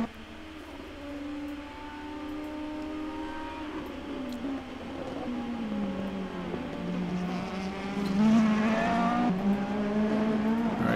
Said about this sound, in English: We are on board now with current provisional pole driver Vicky Seger in his Mercedes AMG